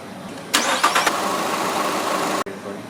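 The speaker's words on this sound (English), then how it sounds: "put on the cap, and let the engine run for 10 seconds" A Nissan Altima engine cranks and catches at once after an oil change, then settles into a steady, even idle for about two seconds before cutting off abruptly; close and fairly loud, with no talk.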